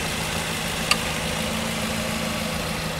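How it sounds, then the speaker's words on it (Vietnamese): A 2010 Nissan Teana with a 2.0 engine idles smoothly and steadily nearby, a low even hum with one faint click partway through and no talk. "hệ thống khoang máy của xe đây, máy nổ rất êm ái nhá"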